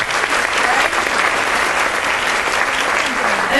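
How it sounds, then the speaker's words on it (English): An audience at a motivational talk breaks into loud, steady applause, a dense wash of clapping that fills the whole stretch without pause. "Give yourself a round of applause for being here today."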